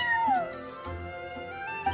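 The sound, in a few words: cat meowing in Genshin Impact video game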